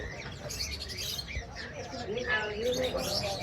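A pineapple conure, a breeding male, gives short chirping calls that cluster toward the end, set against a dense, noisy background.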